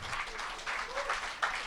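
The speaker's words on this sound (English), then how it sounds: "Round of applause for Mark." Brief, faint clapping from a small audience honoring a guest named Mark, scattered and fairly distant.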